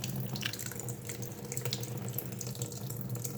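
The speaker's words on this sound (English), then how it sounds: "We're just going to crack this drain bolt loose right here with an 8mm socket. It should start leaking out." Coolant pours steadily from an opened radiator drain bolt on a Yamaha Raptor 700 ATV, a continuous close splashing trickle of liquid that holds even throughout, with no speech.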